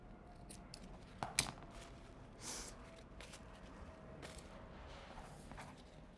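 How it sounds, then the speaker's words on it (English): Scissors snip across three stacked strips of paper for a craft dragon, a couple of quick close cuts with a brief crunch, then quiet rustling in a soft room. "I'm just going to lay those on top of each other and cut across"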